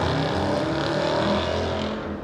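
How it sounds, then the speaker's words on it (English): A loud motorcycle passes outside, a dense continuous engine roar that swells and holds close before starting to fade, with no talking over it. "You guys hear that motorcycle?"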